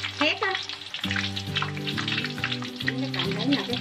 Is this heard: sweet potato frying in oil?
yes